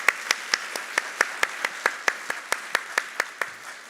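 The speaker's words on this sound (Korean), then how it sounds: "일단 박수로 환영하도록 하겠습니다" A small church congregation claps to welcome a new associate pastor and his wife at a Sunday service, giving about sixteen sharp, evenly spaced claps in a steady rhythm, close and clear, with no voices.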